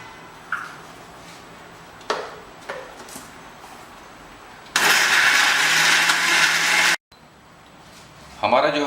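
Electric mixer grinder blending a fine spice paste with salt and Kashmiri chillies for Goan chicken vindaloo, whirring loudly for about two seconds after some clicks and handling knocks, then stopping and briefly restarting.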